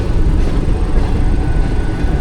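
Millat Express, a Pakistani passenger train, roars past on the adjacent track while overtaking: a steady, loud, close rumble of wheels and carriages with continuous low-frequency rolling noise and no pauses.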